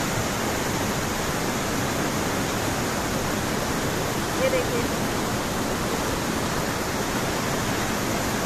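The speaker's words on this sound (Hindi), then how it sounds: "झरने की आवाज कितनी खतरनाक आ रही है" A jungle waterfall in the mountains during heavy rain roars with a dense, steady rush of falling water, loud and unbroken throughout, with a brief voice speaking over it.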